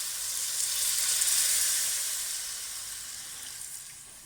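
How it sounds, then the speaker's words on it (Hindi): Hot water added to a pot of rice, carrots and peas for white pulao, producing a loud, close, continuous sizzling hiss that swells and then slowly fades. "पानी मैं इसमें गरम ऐड करूंगी"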